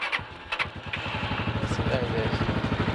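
The engine of a locally assembled car runs with a steady, rapid, chugging idle close by. A few voices and knocks come at the start, then the engine throbs on its own.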